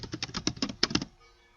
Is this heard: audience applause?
no